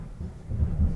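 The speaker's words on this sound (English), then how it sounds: "It's thundering here." Low, rolling thunder rumbles through a storm, swelling in the second half with heavy low-end surges and no voices.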